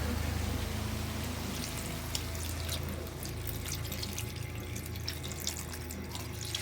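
A little water poured into a pan of sautéed mussels and clams, a soft continuous liquid splash and trickle that runs steadily and fades slightly midway, close and alone with no talking.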